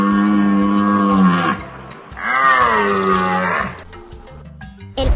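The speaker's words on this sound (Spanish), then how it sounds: "El ciervo." A deer's call rings out alone: two long, loud, tonal bellows that bend and waver, each lasting over a second with a short gap between them, close and clear.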